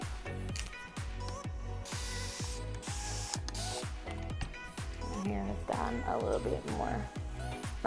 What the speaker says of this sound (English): that's why I am applying a little bit more of the water